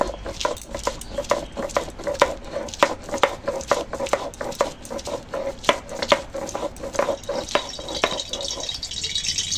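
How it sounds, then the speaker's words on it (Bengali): Ginger and garlic being ground into a paste for a fish curry, giving steady rhythmic scraping and knocking strokes close by, repeated throughout without any talking. "তাই আদা রসুনটা এখন বেটে দিচ্ছি"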